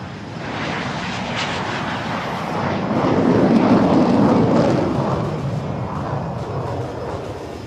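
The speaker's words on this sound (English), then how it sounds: "The first 3 set, ladies and gentlemen, taking off right in front of you." Jet aircraft of a nine-plane display team taking off in a group of three at an air show, a loud roaring engine wash that swells to a peak and then slowly fades.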